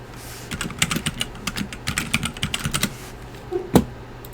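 Rapid typing on a computer keyboard, a quick run of close, crisp key clicks in uneven bursts, heard alone with a louder tap near the end.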